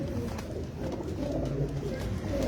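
Pigeons at a pigeon sale centre with breeder and flying birds, giving low, steady cooing that runs through the whole stretch over a dense murmur of many birds, close and moderately loud, with no talk.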